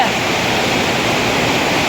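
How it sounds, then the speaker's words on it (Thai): Heavy rain pours down with rainwater rushing strongly, a dense, steady broadband roar close by that fills the whole clip without a break. "โอ้โหดูสิน้ำฝนน้ำไหลแรงมาก"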